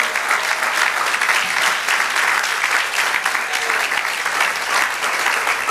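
Sustained applause from a large church congregation, steady and dense throughout, with a faint voice underneath.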